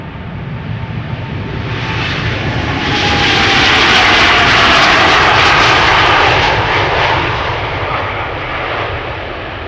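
KLM airliner PH-BKL, about two years old with a first flight in June 2022, departs Amsterdam Schiphol for Bogota. A loud, continuous jet roar swells to a peak midway and then slowly recedes, with no voices.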